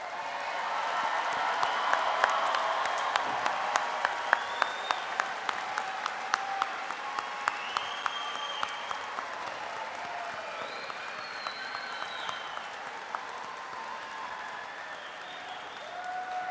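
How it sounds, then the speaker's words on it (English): Sustained applause from a large commencement audience honoring graduate degree recipients, a broad steady roar of many hands with scattered sharper claps and occasional cheers, holding for the whole stretch and easing slightly near the end. "how about a big round of applause for our graduates?"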